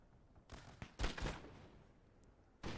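Musket volleys crack out in a Napoleonic battle from Napoleon: Total War, a few separate bursts of massed gunfire with one heavy ragged fusillade in the middle and quieter gaps between shots.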